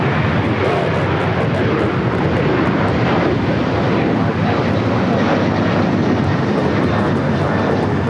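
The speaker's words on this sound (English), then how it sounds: "A Delta 767 to 400 ER touching down here on the south side of this flight" A Delta Boeing 767-400ER jet touches down on the south side at LAX, arriving from Atlanta, with a loud, steady broadband roar of engines and rushing air filling the whole stretch without a break.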